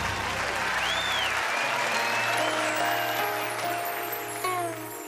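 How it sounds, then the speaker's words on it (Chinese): An audience claps in a sustained burst of applause welcoming a singer onto a Taiwanese TV music show stage, dense and steady throughout, with a hum that drops out early and a faint stray tone near the end. "我们来掌声欢迎姐"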